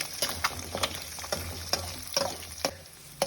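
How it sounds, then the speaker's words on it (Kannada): Beaten egg seasoned with salt and pepper being stirred and cooked in a kadai, soft sizzling under a series of sharp spatula scrapes and taps against the pan, fairly quiet and close. "ಇದನ್ನು ಸ್ವಲ್ಪ ಚೆನ್ನಾಗಿ ಮಿಕ್ಸ್ ಮಾಡೋಣ ಈ ಥರ"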